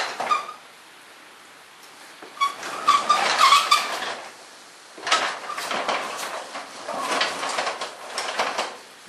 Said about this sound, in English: I should be able to raise the door.